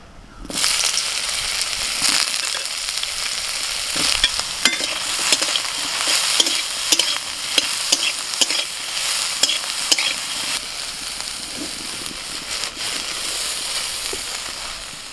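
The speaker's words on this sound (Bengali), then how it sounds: "এবার সয়াবিনটা একটু নেড়ে নেব।" Soya chunks fry in a pan and get stirred again and again, a close, continuous sizzle full of crackling pops and scraping strokes throughout, with no voices.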